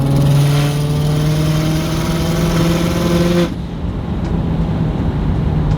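An EG33-swapped Subaru WRX STI pulls hard from inside the cabin, its engine droning loud and steady with rising tones until an abrupt cut midway leaves a lower, rougher rumble.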